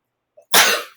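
A single sharp sneeze bursts out close by after a brief soft intake of breath, loud and quickly fading.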